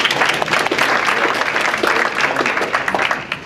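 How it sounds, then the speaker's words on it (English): An audience claps loudly and steadily for a presenter, a full, continuous round of applause with individual hand claps standing out near the front. "Let's give him another round of applause."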